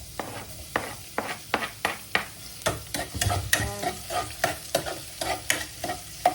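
Garlic and onion frying in a pan, a soft sizzle under repeated sharp scrapes and taps of a utensil stirring at a regular pace, close up with no talking.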